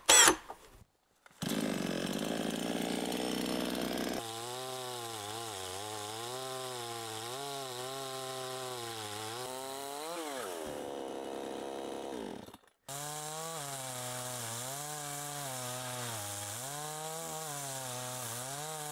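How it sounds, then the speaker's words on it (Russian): A chainsaw with a worn, dulling chain cuts wood while building a dugout shelter: a loud, close, continuous engine drone whose pitch wavers under load, with a short break near the end and no talking. "Цепочка на пиле заканчивается, и срез вот уже такой получается."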